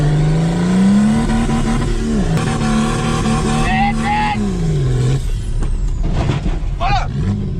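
A car engine revs loudly and steadily in reverse gear, pitch rising and falling, with a shift in tone partway through and voices talking over it.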